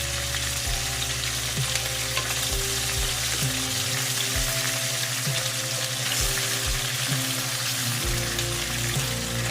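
Pork liempo frying in a pan as onion is added, a loud, even, continuous sizzle with a faint steady hum underneath and no pauses.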